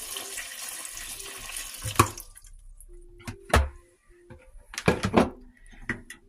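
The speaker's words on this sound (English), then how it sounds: "I'm going to filter more water because I want that to be filled right up." Water being poured and run through a home filter on a winter homestead, a steady splashing stream for two seconds followed by separate gurgles, drips and small knocks nearby, with no talking.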